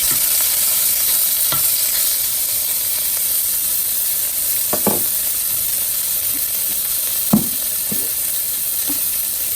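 New York strip steaks brown in a little oil in a hot pan, giving a loud, continuous sizzle and hiss, with a few brief scraping or shifting sounds from the pan along the way.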